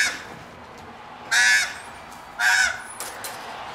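Birds caw harshly outdoors: two loud, separate caws about a second apart, then a fainter third, with quiet air between them and no voices.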